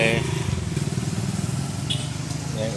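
A Honda TMX 155 motorcycle engine with loss of compression runs in a steady, rapid pulsing beat, close by under people talking.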